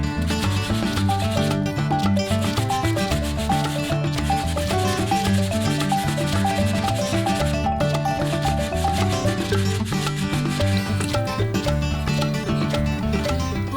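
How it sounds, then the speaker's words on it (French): Continuous rough rubbing of sandpaper on wood of an IKEA furniture piece, dense scratchy strokes repeating steadily and close for the whole stretch, no voices. "je vais passer un petit coup de ponçage"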